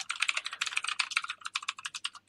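Rapid typing on a computer keyboard during a live coding session, a close, dense run of key clicks with brief pauses, heard alone without talk.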